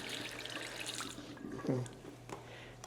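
A water tap set up for ghusl ritual washing runs with a steady hiss, then the flow drops away partway through as it is shut off, leaving quieter room sounds.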